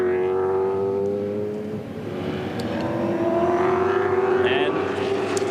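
Supercars V8 race cars at the 2006 Ipswich 400 pass on track, a loud sustained engine drone with shifting pitch as cars go by, under steady commentary.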